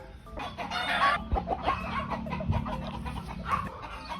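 Chickens and roosters in a gamefowl yard cluck and call repeatedly at moderate distance, a busy chorus of short bursts with no talking.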